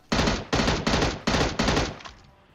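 Five rapid bursts of M16A4 rifle fire in PUBG Mobile, each a loud, dense cluster of shots lasting about a third of a second, spaced evenly, with the last burst trailing off into a fading echo.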